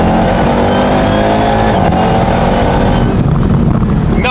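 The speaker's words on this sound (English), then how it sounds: "let's just smash it so you can hear the exhaust" A roughly 1,000-horsepower supercharged Dodge Durango Hellcat on E85 with an AWE Touring exhaust accelerates hard. A loud, continuous roar is layered with a rising supercharger whine, and it stays close and intense throughout.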